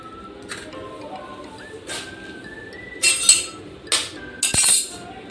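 Eggs cracked against a bowl's rim and dropped in, giving a few sharp clinking taps spaced through a quiet kitchen, with faint background tone between them.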